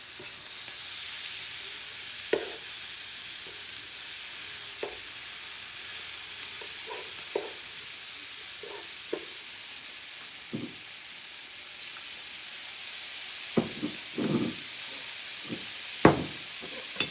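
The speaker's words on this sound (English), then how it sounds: "I heard one popping." Tomatoes sizzle softly in a frying pan under a steady hiss, with scattered sharp pops and crackles, one clustered run and a louder pop near the end; no one speaks.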